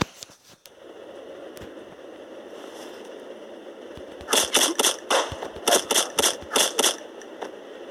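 Video game gunfire bursts out in a rapid run of sharp, loud shots, clustered in quick groups after a quieter stretch of background game ambience.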